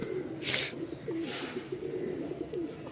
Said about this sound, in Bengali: একজোড়া কবুতর দেখতেই পাচ্ছেন